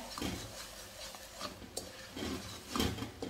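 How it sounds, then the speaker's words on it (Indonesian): Sugar stirred in a pan as it melts and turns sticky, a soft scraping and swishing of a utensil against the pan in uneven strokes with faint sizzling beneath, close and fairly quiet. "ini kita aduk sampai gulanya tuh benar-benar cair dan jadi lengket"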